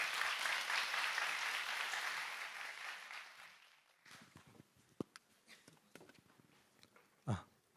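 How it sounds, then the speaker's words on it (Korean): Audience applause welcoming a presenter at a business seminar, steady and fairly loud for about four seconds, then fading into a few scattered claps, footsteps and small stage noises. "큰 박수로 맞이해 주시기 바랍니다."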